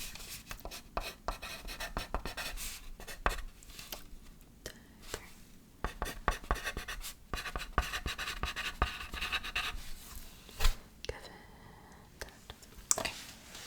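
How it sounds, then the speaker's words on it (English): A pen scratches as a patient's name is written down during an ASMR at-home nurse role-play. Close, crisp strokes and taps come in irregular bursts, with soft whispered speech at moments between them. "so let me write down your name."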